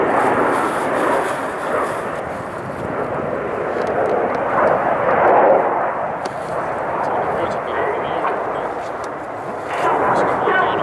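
Red Arrows display team jets roaring past at an air show, a loud sustained engine rumble that swells and fades as the aircraft pass, with a commentator speaking over it throughout.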